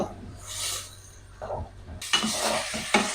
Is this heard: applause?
no